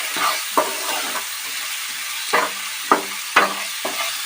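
Spice paste of Kashmiri chili powder and ginger paste frying in a pan for a Bengali cabbage dish, a steady close sizzle with a few sharp spatula scrapes and knocks at intervals.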